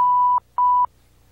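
Two loud, pure censor beeps sound over a guitar lesson, the first lasting about 0.4 seconds and the second slightly shorter after a short gap, followed by near silence.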